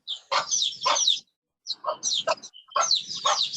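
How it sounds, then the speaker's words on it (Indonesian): Chickens cluck and squawk in short bursts, fairly close, with brief pauses between the calls. "Mujika itu suara ayam di situ berisik."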